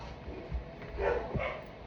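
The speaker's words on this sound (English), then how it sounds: "Excuse the background noise. Dogs are going nuts." Dogs bark and yip in the background, several short bursts at moderate distance over a steady low hum.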